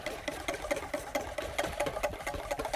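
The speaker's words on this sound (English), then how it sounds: "whisking constantly" A whisk beats egg yolks for hollandaise sauce in fast, even, rhythmic strokes, each tapping and scraping against the bowl close up, with no voices.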